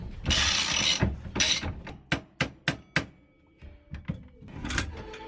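A hand ratchet clicks in quick bursts while loosening the steering wheel from a Firebird, with several sharp isolated clicks in between and a longer run of clicking at the end, loud and close with no talking.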